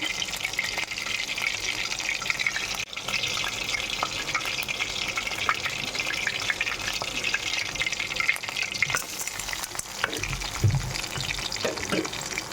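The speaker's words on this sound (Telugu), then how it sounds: "కొద్దిగా ఉద్దిబేడలు కొద్దిగా శనగబేడలు ఒక ఐదు ఆరు వెల్లుల్లి రబ్బులు కొద్దిగా జీలకర్ర ఆవాలు రెండు రెబ్బల కరివేపాకు ఇవన్నీ వేసి వేయించుకోవాలి ఆయిల్లో" Urad dal, chana dal, garlic cloves, cumin, mustard seeds and curry leaves frying in oil, giving a dense, steady sizzle with scattered spattering crackles and a low rumble near the end.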